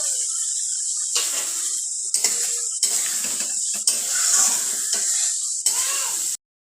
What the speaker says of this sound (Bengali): এবার এই পর্যায়ে আমি এই মশলার মধ্যে দিয়ে দেবো টমেটো।